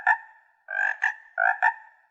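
A homemade animatronic frog lets out a few short croaking calls in quick succession, loud and close with brief gaps between them, with no talking.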